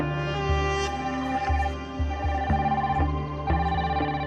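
A mobile phone ringtone plays a repeating electronic melody, its tones rising and falling in a steady rhythmic pattern, clear and fairly close for several seconds with no talking over it.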